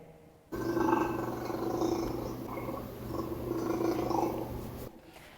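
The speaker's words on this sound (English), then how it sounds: "for those at home who guessed tiger or cheetah, it was actually a leopard" A deep, rumbling purr-like growl from a leopard, continuous and throaty, rising and falling for several seconds, then stopping abruptly.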